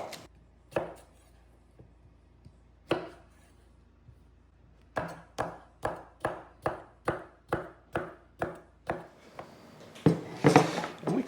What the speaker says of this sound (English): Then I need an English cucumber, here again, just roughly chopped